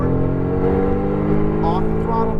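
A Mercedes-AMG GT R engine drones at steady revs on a track, a loud sustained harmonic roar with shifting pitch and a brief rising whine near the end.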